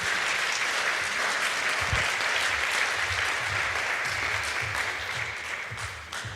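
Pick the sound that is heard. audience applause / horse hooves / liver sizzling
audience applause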